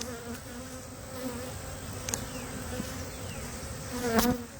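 Honey bees hum in a dense, continuous buzz close to an open hive, individual bees whizzing past now and then over the steady drone, with no voices.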